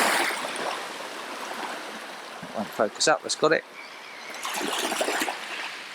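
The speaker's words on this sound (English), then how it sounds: "waiting for the waves to come in" Sea waves washing onto a winter beach make a steady broad wash, swelling again near the end, while someone talks briefly in the middle.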